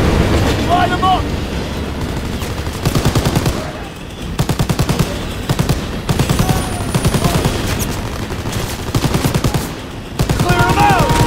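Sustained machine-gun fire and rifle bursts rattle through a World War II battle in Call of Duty WWII, dense and loud throughout with brief lulls, mixed with vehicle noise and shouted voices.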